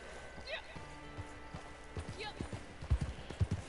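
A horse's hooves clip-clop in a video game, irregular thuds growing heavier toward the end, heard under a person talking.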